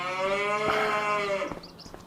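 A loud, close cow moo from a Farming Simulator 25 cow barn, one long drawn-out low call that fades into soft knocks and shuffling, with no talk.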